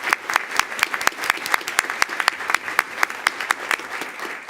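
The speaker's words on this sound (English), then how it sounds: "Give a round of applause." A small group at a school board meeting claps for a few seconds, individual claps sharp and distinct rather than a dense roar.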